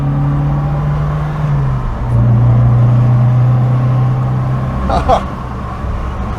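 A 1968 Toyota Corona with extra power driving on the road, heard as a steady in-cabin engine drone that rises slightly in pitch, with a brief clatter near the end.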